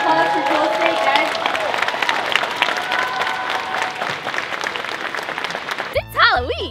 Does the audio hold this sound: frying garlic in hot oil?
no